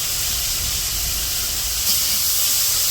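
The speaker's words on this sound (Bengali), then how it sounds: "তো এখন পেঁয়াজ দিয়ে দিতেছে পেঁয়াজগুলা এই বেগুনের সাথে আর কি ভাইজে নেব" Onions sizzling with eggplant in a hot pan, a steady, loud hiss of frying that carries on with no pauses and no talk.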